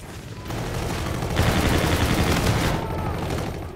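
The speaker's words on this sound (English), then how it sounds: "Alright, let's get a kill with this gun." Sustained video game gunfire during a gun game match, a loud continuous rattle of rapid shots that swells in the middle and carries on for several seconds.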